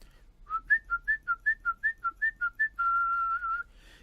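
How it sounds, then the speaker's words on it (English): Mouth whistling in which the tongue shapes the pitch: about a dozen short, crisp notes alternating between two pitches in a quick rhythm, then one sustained held note, clear and close on a near-silent background. "In the whistle, the tongue is creating the pitch change."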